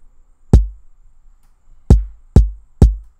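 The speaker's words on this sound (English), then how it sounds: "And I'll put the hi-hats with the kick." Four punchy kick drum hits with crisp hi-hats on top land in an uneven pattern against near silence, each decaying quickly.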